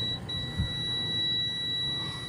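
A multimeter continuity buzzer holds a steady high-pitched electronic beep while testing an inverter welding machine, with a brief low thump near the start and faint background hum.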